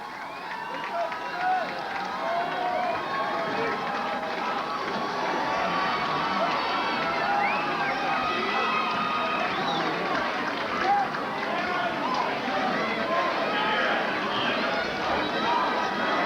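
A Potsdam State basketball crowd at the 1986 NCAA Division III championship roars in a steady, dense wash of cheering and noise, loud and continuous across the whole stretch.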